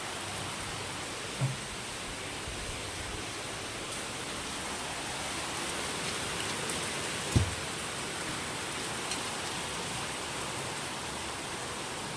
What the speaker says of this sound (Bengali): কি বৃষ্টি দেখো প্রচণ্ড পরিমাণে বৃষ্টি হচ্ছে